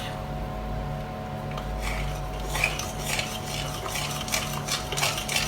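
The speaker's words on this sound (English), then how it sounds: "Give it another stir." Spoon stirring pancake batter for a blueberry and orange traybake, soft scraping and clinking against a bowl in irregular bursts, fairly quiet over a steady low kitchen hum.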